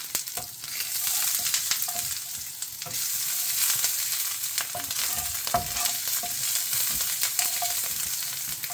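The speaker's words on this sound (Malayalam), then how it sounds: "കടുകും ഉലുവയും പൊട്ടിത്തെറിച്ച ശേഷം അതിനുശേഷം നമ്മൾ 2 ചുമന്ന മുളക് ഇടുകയും 2 ഇഞ്ചിയും നേരത്തെ എടുത്ത് നമ്മൾ വെളുത്തുള്ളിയും ഇടുകയാണ്." Red chillies, ginger and garlic fry in hot oil with popped mustard and fenugreek seeds for a Kerala moru curry, giving a steady close sizzle with small crackles and pops throughout.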